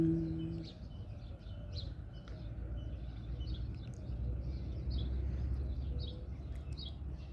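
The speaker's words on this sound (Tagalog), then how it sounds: "Ibon lang ang sumisigaw." Birds call and chirp in the morning at a quiet residential spot, brief scattered calls over a steady low background hum throughout.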